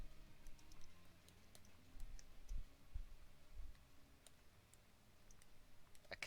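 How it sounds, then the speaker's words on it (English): Quiet, irregular clicking and tapping like a computer keyboard or mouse during a drawing session, light scattered clicks at close range over a low background hum. "Aren't you clicking on something?"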